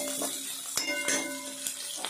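Onion frying in oil in a kadhai, a soft sizzle broken by a few sharp metallic clinks and scrapes of stirring, close and moderately loud.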